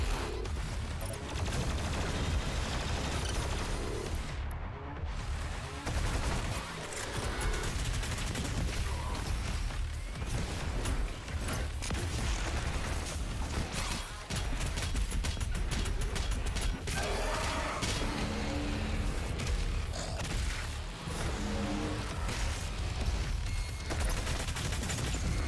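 Rapid plasma rifle fire in Doom Eternal during a Doom Hunter battle, a dense, loud stream of shots with explosions and mechanical clatter continuing almost without pause.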